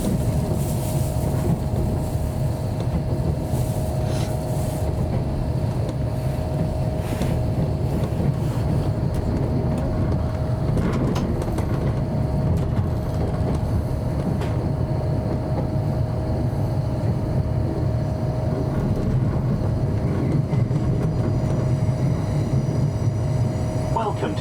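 A TransPennine Express train rolls toward Dewsbury with a loud, steady interior rumble and constant rail roar throughout.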